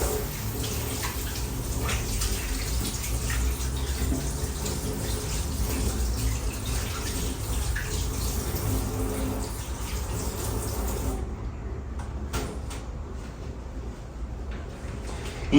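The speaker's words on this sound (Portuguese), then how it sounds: "Deixa eu lavar minha mão." Hands are washed under a running tap in a kitchen, a steady close splashing stream of water that keeps flowing, then thins and changes tone toward the end.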